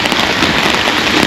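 Rain falls steadily on the seafront at Lazarevskoye in Sochi, a loud, dense, unbroken hiss of drops close by.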